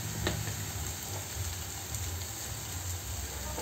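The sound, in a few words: frying crab curry masala in pan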